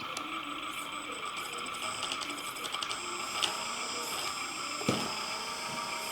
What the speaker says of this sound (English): Start pump.